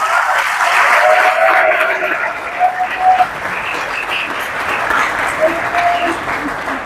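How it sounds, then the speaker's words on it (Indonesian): Students and guests at a school event in Bekasi give the teachers a long round of applause, a dense wash of clapping with scattered cheers and voices mixed in. "Tepuk tangan untuk guru kita semua."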